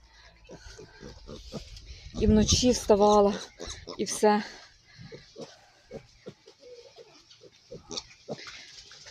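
Young pet piglets grunt and squeal in a loud, close burst of rhythmic oinks, followed by scattered softer grunts while someone talks over them.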